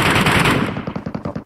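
Loud, close automatic gunfire in the video game Metro Royale: a dense burst that breaks into rapid, evenly spaced individual shots.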